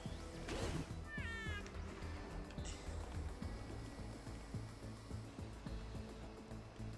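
Cat Roomba enemies in A Hat in Time, with a couple of short meows rising over a continuous droning whirr and busy game sounds.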